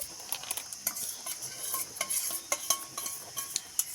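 Strained mango mixture being cooked in a wok, with steady close stirring: quick repeated scrapes and clicks of a utensil against the pan over a soft continuous sizzle, no voices.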